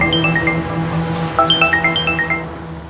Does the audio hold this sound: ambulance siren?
no